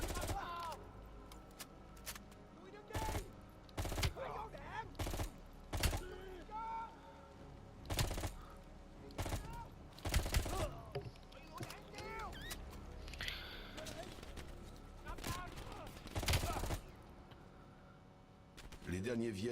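Repeated gunfire in the Call of Duty Black Ops video game: sharp, loud single shots and short bursts spaced irregularly across the scene, over a low background of game ambience and music.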